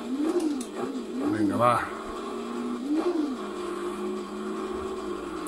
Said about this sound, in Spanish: que se oye mucho el motor